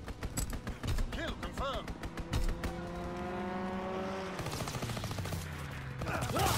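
Bursts of rapid gunfire from an aerial strafing run in a first-person shooter, sweeping through alongside engine-like whine and mechanical game effects at moderate loudness, with little speech.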